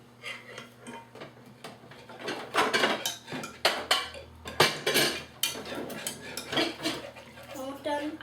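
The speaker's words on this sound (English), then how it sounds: "just keep whisking it like that" A whisk clinks and scrapes rapidly inside a pot of lemonade ice cream mixture, coming in uneven bursts that grow louder and busier, with voices talking softly underneath.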